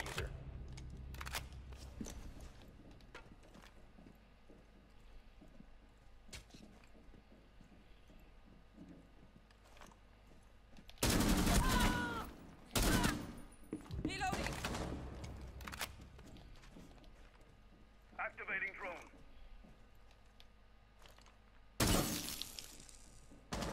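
Rainbow Six Siege gunfire comes in several loud, sharp bursts, with long clustered volleys around the middle and another near the end, between quieter gameplay stretches of footsteps and small impacts.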